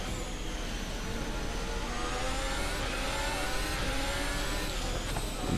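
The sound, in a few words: F1 car engine revving in a racing video game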